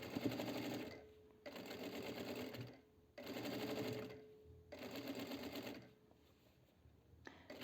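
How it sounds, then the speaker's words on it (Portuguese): A sewing machine stitches a midi dress with elastic shirring thread, running in four steady whirring bursts separated by brief pauses, close and fairly loud with no talking. "você consegue costurar isso aqui bem mais rápido"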